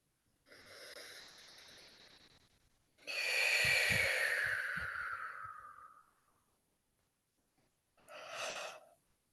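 A person yawns in a quiet room, a long drawn-out breathy yawn rising and fading over a few seconds, followed by a shorter exhale-like yawn; near and alone with no talk.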